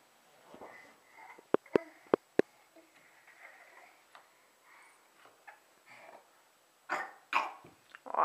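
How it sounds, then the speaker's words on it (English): A dog gives a quick series of four sharp coughs, close by, followed by snuffling and soft sniffs, then louder hacking bursts near the end. "Oh, there's a little cough."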